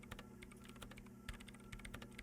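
Rapid, continuous keyboard typing in the video game Disco Elysium, a fast string of light clicks over a steady low hum, quiet and without talk.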